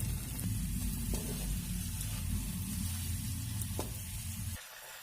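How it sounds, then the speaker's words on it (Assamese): Ata roll pieces sizzle and fry in hot oil in a kadai, a steady close crackling hiss with occasional stirring clicks, easing off near the end, with no one talking. "এতিয়া মই কেৰাহী এখনত তেল অলপ গৰম কৰি লৈছো। ইয়াতে মই লাহে লাহে এইখিনি দি দিম।"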